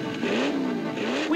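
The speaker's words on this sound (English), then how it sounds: "We jumped into Sophia's car and took off through the streets of Rome" A cartoon sound effect of Sophia's car speeding off through the streets of Rome, a close, revving engine whine that climbs and wavers in pitch over a brief burst, with no talking.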